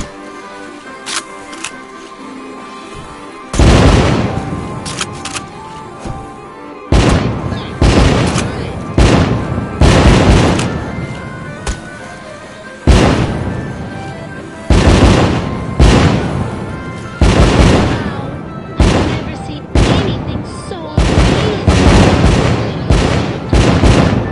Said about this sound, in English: Light up those fireworks, sit back and enjoy the show.